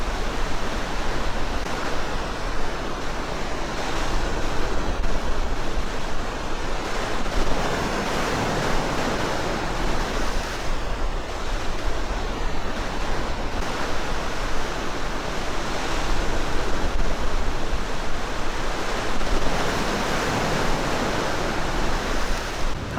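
Waves surge and wash steadily against a rocky East Sea shoreline beside a breakwater in Yeongdeok, a continuous broadband roar of surf with gentle swells and some wind, no voices.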